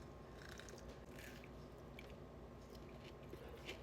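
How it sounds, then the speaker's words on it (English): Biting into and chewing a dense, chewy Dubai style brownie layered with pistachio cream and soft frosting: close, soft continuous mastication with wet squishy texture, no talking. "Let's try a bite."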